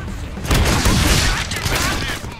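A dense burst of gunfire in the Deadpool video game rattles loud and close for about two seconds, with a voice overlapping the shots.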